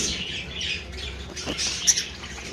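Breeding pairs of budgerigars kept with clay nesting pots squawk in a close, busy chorus of sharp, chattering calls, with one louder shriek standing out near the end.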